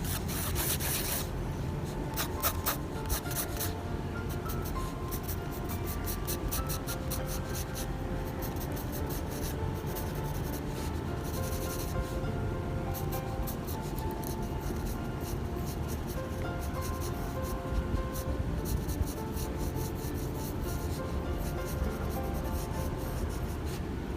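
A pencil draws a face on paper in a steady, close scratching that runs through the whole stretch. Continuous soft strokes and rubbing are heard without any speech.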